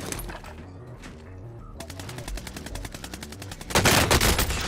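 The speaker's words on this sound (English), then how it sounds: "I'm getting shot from so many angles, I don't know where people are" Video game gunfire in a battle royale match, rapid bursts of shots from several weapons, first sparse then a steady automatic stream, ending in a loud close volley.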